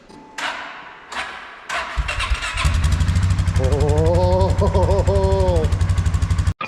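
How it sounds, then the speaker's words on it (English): A four-wheeler ATV engine cranks with a few thumps, then catches and settles into a loud, close idle with a quick rev, while a voice speaks over it. "Have you started your four-wheeler yet?"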